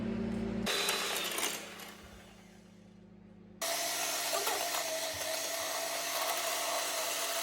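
An electric beater whips cream for a cake, a steady high whirring motor that cuts out, leaves a quieter gap, then starts again loudly and runs on evenly.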